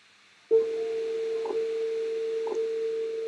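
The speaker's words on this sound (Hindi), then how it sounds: "ये साउंड है टेलीफोन के रिंग का।" A steady electronic telephone tone starts abruptly after a half-second of near silence and holds at one pitch, loud and continuous, with faint clicks roughly each second.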